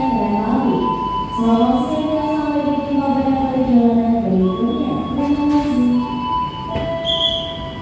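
The Sembrani passenger train pulls out of Tegal station with a steady rumble, long tonal whines and squeals from wheels and motors, and a few brief higher screeches, all loud and continuous.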